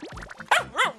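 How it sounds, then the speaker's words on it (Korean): A four-month-old Shiba Inu puppy gives a quick run of whiny yips followed by two sharp, loud, close barks, all within a second. "올라타서 짖기까지 하는"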